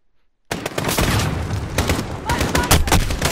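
Sniper rifle fire in Call of Duty: Modern Warfare erupts at once into a dense, loud barrage of overlapping gunshots and booms, with voices mixed underneath.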